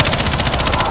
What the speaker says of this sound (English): I got scared and I started shooting, boys.